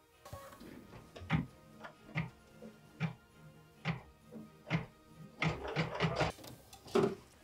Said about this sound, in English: Machine step 6 is stitching the decorative lights on the roof.